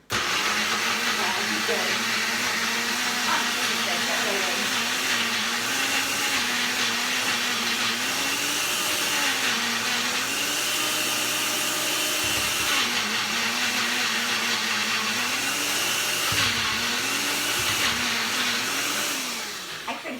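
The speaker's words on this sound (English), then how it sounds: "Just whipping it into a blender." A blender runs loudly and steadily for a long stretch, blending avocado, its motor whirring with a slight wavering pitch as the avocado pieces churn and catch inside.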